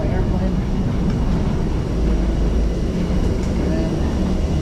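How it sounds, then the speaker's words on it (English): An airplane at an airport, a loud steady broadband engine roar filling the space with a constant low rumble, heard continuously up close with no clear voices. "That's my airplane."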